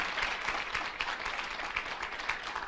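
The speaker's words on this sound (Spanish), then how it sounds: "Aplauda para que le haga eso" Applause from a church congregation during a Spanish-language sermon on the deity of the Holy Spirit: steady, dense clapping of moderate volume that carries on throughout.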